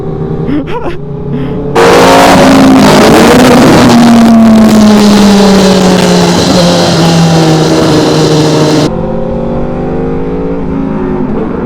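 Loud straight-piped Aprilia RSV4 motorcycle engine during a ride, a steady rising and falling drone that swells sharply after a quieter start, then drops back near the end.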